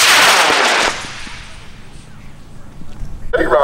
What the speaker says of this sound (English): Let's put Taylor's rocket up in 5